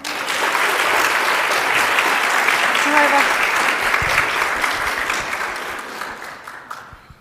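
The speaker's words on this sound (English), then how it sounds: "Can you give him a big clap" Steady, loud applause from a seated audience at a university health sciences welcome session, sustained for several seconds before tapering off at the end.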